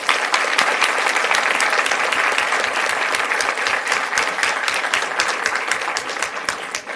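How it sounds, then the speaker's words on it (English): An audience at a Fort Worth school event applauds the teachers being honoured, a steady burst of many hands clapping at close range that carries on without a break. "Let's give them a round of applause."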